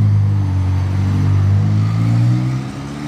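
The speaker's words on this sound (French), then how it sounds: "il y a Massoud qui arrive avec sa 720S folle." McLaren 720S supercar driving past on the streets of Monaco: a deep, loud engine rumble that holds steady, swells, then fades as the car moves off, with no voices.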